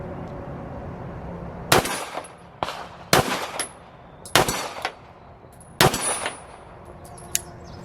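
Several sharp, loud pistol shots from a Staccato-P ring out at uneven intervals, each a crisp crack with a short ringing tail, with a few fainter reports and a steady outdoor background between them; no one speaks.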